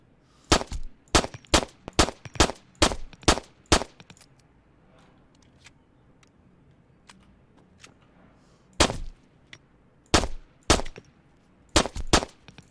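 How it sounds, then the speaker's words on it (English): A P1 pistol fired in ARMA 3: a quick string of about nine sharp, loud shots, a pause, then scattered single and paired shots close up. "Let's try out the P1"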